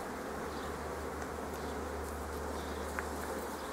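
Honey bees buzz steadily at a hive in a spring apiary, a dense continuous drone close to the ear with no talking and only slight swells in loudness.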